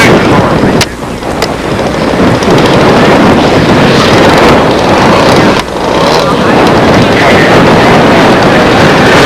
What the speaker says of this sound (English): I know you can hear the wind blowing.